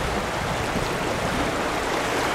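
Steady, loud broadband rush of water pouring out of a giant concrete pumped storage dam structure into the Tennessee River at Raccoon Mountain, a continuous roar without pauses.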